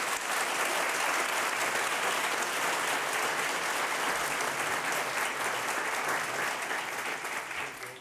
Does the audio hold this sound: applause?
yes